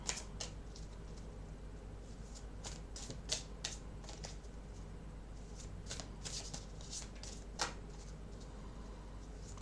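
Tarot cards being shuffled by hand, a steady papery riffling and slapping that runs for several seconds with a few sharper snaps, close and fairly quiet, with no talk over it.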